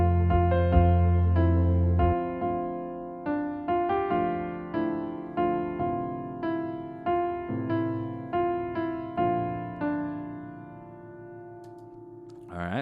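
The melody of a song plays over chords on what sounds like piano, steady repeated notes decaying in a regular rhythm, clear and alone, fading out at the end.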